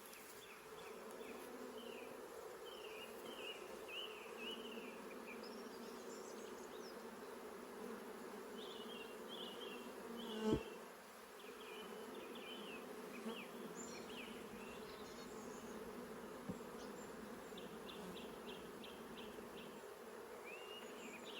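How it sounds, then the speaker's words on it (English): Honey bees buzzing around a hive during a transfer from a nuc box, a soft steady drone with scattered higher whines of individual bees, one brief thump midway, no voices. "And that's a bee."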